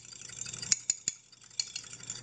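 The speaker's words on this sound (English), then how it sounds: "I'm going to mix this up with a fork." Fork clinking and tapping against a bowl while whisking a cracked egg, a few sharp close clicks over a quiet hum, no talking.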